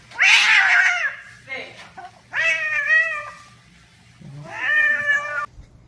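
A cat meows three times in long, loud, wailing yowls separated by short pauses, close by, with quiet background sounds between the calls.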